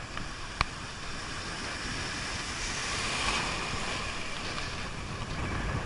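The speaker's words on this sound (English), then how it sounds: "So lots of wind means lots of waves." Ocean waves and wind on a surfy beach make a steady, loud wash of surf with wind buffeting the microphone. One brief knock sounds early, and no voices are heard.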